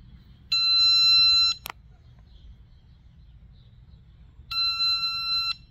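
Two bursts of high electronic beeping from a Begode ET Max electric unicycle alarm at power-on, each about a second long, separated by quiet with a soft low hum underneath.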